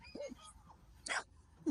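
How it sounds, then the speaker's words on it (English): A few soft, high yips and whimpering barks from corgi puppies on a farm, quiet and scattered, with faint background noise. "Not sure what those kids are barking at"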